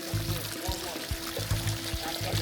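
Hot spring water at a volcanic site runs and pours steadily with a continuous close splashing rush. A low steady hum and a few soft thumps sit underneath it.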